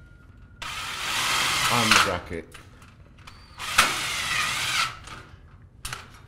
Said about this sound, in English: We actually use a smaller screw, a pan head, and we drill through the side